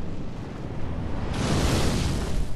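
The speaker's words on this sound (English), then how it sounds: "And they're still firing fireballs at me." Fireballs explode in the video game Dark Souls 3, a deep, loud rumbling burst that swells and roars on after a sudden onset.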